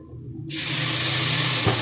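Water splashed into a hot pan of frying ginger garlic paste with salt, chili and turmeric, a sudden loud sizzling hiss that bursts in and holds steady.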